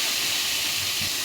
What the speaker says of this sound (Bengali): তেল গরম হলে আমি লবণ হলুদ দিয়ে মাখিয়ে রাখা মাছগুলো দিয়ে দিলাম।